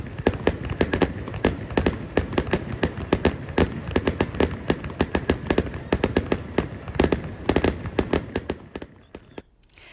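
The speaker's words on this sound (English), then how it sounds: "Fireworks were viewed from the grandstands." Fireworks exploding at outdoor eclipse festivities, a dense rapid barrage of loud cracking bursts with almost no pause, ending in a few scattered pops.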